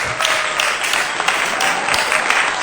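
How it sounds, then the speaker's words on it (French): A church congregation applauds during a Christian worship service, with steady, dense clapping that stays loud and close for the whole moment. "Est-ce qu'on peut applaudir le Seigneur?"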